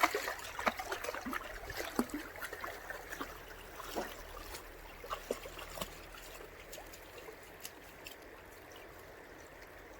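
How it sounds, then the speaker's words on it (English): A clear river flows and trickles softly nearby, with a steady low wash broken by small splashes and drips, and no voices. "just wanted to show you the cool crystal clear river"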